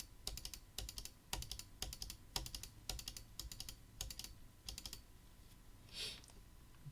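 Rapid clicking from a computer mouse while modeling a Möbius strip in FreeCAD, coming in quick paired bursts repeated about eight times at close range, with no talking.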